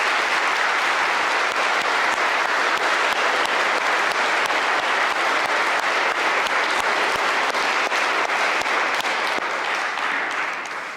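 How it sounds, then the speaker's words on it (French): Sustained applause from a church congregation at a Christmas night Mass, steady dense clapping filling the whole stretch at an even loudness and tapering slightly at the end, with no voices over it. "ça mérite une main d'applaudissement"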